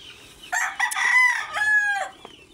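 A rooster crows nearby, loud and clear in one drawn-out call with a couple of breaks, against an otherwise quiet morning background.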